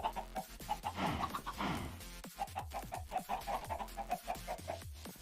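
Chickens in the Minecraft-style game Project Nope Zone cluck in a steady, rhythmic run of short repeated calls, fairly close and continuous, with no talking over them.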